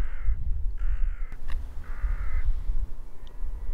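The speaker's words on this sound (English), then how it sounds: "but there is a crow nearby, clearly" A crow cawing nearby outdoors on Watership Down, three loud harsh caws spaced about half a second apart over a rumbling wind-like background, with no talk.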